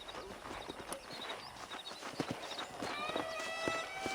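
Horses gallop in the Red Dead Redemption video game with a busy clatter of hooves over a steady background bed, a few faint whinny-like tones rising near the end.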